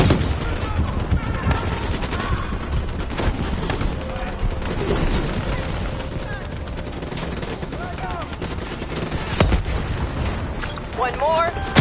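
Detonated spikes explode in the Call of Duty Black Ops 3 video game, dense booms and crackling gunfire filling the whole stretch as voices speak over the battle.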